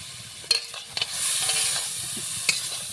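Spoon stirring ripe pointed gourd with salt and spices in a hot pan, with a few sharp scraping clinks over a soft steady sizzle of frying, close and fairly loud.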